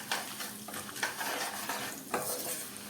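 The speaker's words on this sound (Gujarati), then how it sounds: "થોડી વાર માટે ચલાવતા રહીએ એટલે બધી વસ્તુઓ સારી રીતે ફ્રાય થાય પણ બળી ન જાય" Papad poha being stirred and fried in a pan with fennel seeds and turmeric, close crisp scraping strokes in an uneven rhythm over a soft sizzle, with no talking.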